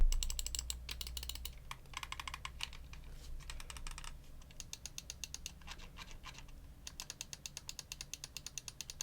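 Close, dry ticking from a computer mouse scroll wheel in its first version with firm detents, rolled in quick bursts of rapid clicks separated by short pauses, with no talking.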